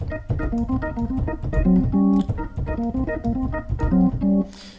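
Gospel shout lick played on organ, built on 4 and 1 tritone shapes: rapid stabbed chords in a driving rhythm, loud and close, with no talking.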